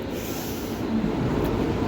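A train pulls into Bangalore SMVT railway station with a close, continuous low rumble of rolling wagons and a faint metallic edge above it.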